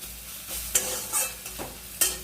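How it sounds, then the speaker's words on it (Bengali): Onion frying in a pan with turmeric and salt, stirred with a few scraping strokes over a soft, continuous sizzle, close and clear with no voices. "দিয়ে পেঁয়াজটাকে আমি নাড়িয়ে চাড়িয়ে নিয়ে"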